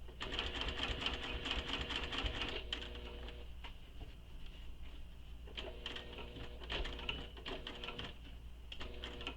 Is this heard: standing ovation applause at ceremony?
no